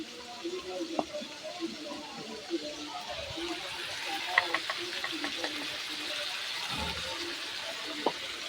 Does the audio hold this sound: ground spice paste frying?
yes